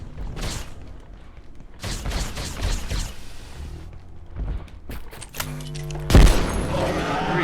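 Several heavy shotgun blasts in the game Abiotic Factor, spaced apart with booming low thumps and noisy tails, the last one loudest and closest.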